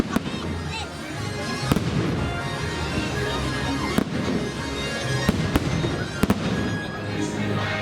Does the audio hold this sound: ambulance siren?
no